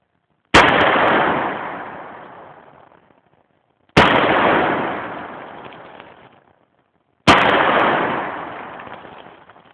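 Three loud revolver shots fired with hot loads, evenly spaced about three seconds apart, each a sharp crack followed by a long rolling outdoor echo.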